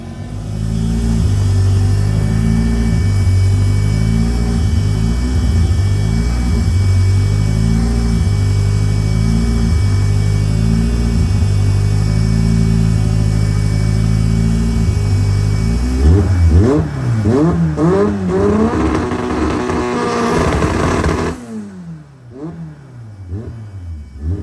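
Supercharged LS 416 blower engine idling loudly while warming up, a deep lumpy rumble with a steady rhythmic lope, then a few throttle blips near the end before it drops quieter.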